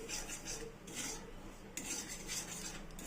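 Semolina dry-roasted in a pan, with a steady scraping and rasping of a utensil against the pan's metal surface, close up and continuous in repeated strokes, with no talking.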